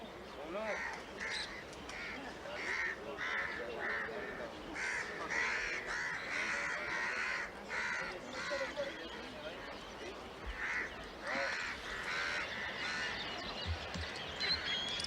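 A human voice imitates crows cawing, producing a string of harsh, rhythmic caws close by, repeated steadily over about fifteen seconds.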